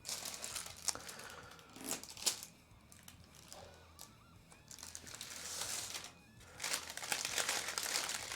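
Sheets of old guitar design plans crinkle and rustle as they are handled under a table. The soft, irregular crumpling and rubbing of paper comes in waves and swells louder toward the end, with no talk.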